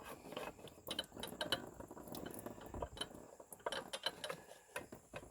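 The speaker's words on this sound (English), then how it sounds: "We got to loosen up this screw here." Screw on a John Deere 440 fuel filter canister being loosened, faint close metallic clicks and scraping of a hand tool in irregular bursts; no talking.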